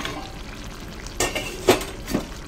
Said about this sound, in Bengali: ঢাকনাটা তুলে দেখলাম, আমার মাছের মধ্যে ঝোলের মধ্যে মাছটা ভালো করে ফুটে গেছে